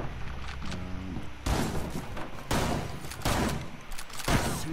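Ela's shotgun in Rainbow Six Siege blasting several times, loud sharp reports spaced roughly a second apart in an indoor corridor fight, with faint game noise between shots.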